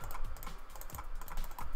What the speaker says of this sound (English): You can probably hear my mouse intensively clicking.